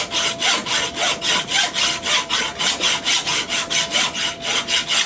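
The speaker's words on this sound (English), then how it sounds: "And that was maybe a minute worth of filing right there." A hand file rasps across hardened glass bedding compound on an M14/M1A rifle stock, in steady back-and-forth strokes of about four per second, close and fairly loud, with no talking.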